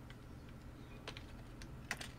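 A fastboot reboot command typed on a computer keyboard, a few soft, quick key clicks at close range with a sharper final tap, no voices.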